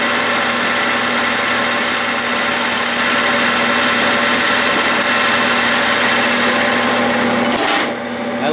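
A metal lathe taking a cutting pass on a pulley, a loud continuous machine whine and hum that runs steadily, then eases near the end.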